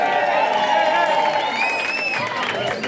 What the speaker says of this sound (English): But Paddy and Sam, give a round of applause.